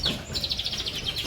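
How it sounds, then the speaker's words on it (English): Finches at a bird sanctuary give quick, high chirps in a rapid, regular series lasting about a second, close by and moderately loud. "Are they finches? I think so."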